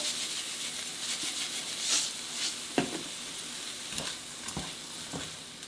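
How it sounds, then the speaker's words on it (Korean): Stir-fried anchovies crackle in a pan just after perilla oil is drizzled in and the heat is switched off. A steady sizzle runs throughout, punctuated by a few sharp taps and scrapes as the mixture is stirred. "불은 꺼준 상태에서 들기름 한 바퀴 이렇게 돌린 상태에서 이렇게 휘 한번 저어주신 다음에 여기에 깨."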